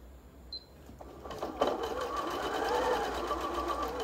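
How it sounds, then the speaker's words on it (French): A domestic sewing machine sews a straight stitch along a fabric edge, starting up after a click and settling into a steady, fast mechanical whir close by, with no talk over it. "je viens faire un point droit"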